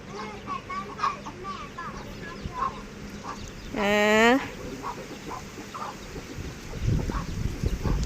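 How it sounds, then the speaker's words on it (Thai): In a rural yard, a mother hen with young chicks gives soft repeated clucks, with one louder squawk in the middle. Someone talks over the low background. "แม่ไก่แม่ลูกอ่อนอยู่ค่ะ"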